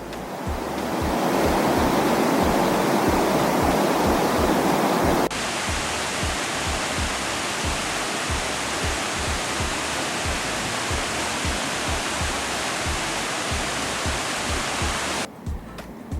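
A river in the Smokies rushes where it splits and rejoins, a steady broadband roar of flowing water, loud and close throughout with a brief shift in tone partway through.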